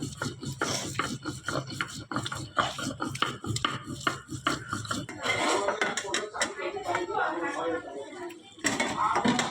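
Onion, chili, garlic and dried fish being ground together by hand for a spicy shutki bhorta, a close, rhythmic scraping and rubbing with light knocks, while a voice talks at times.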